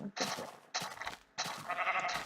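Three bleats from a sheep in a video game, each a wavering nasal cry, close and fairly loud with short pauses between them.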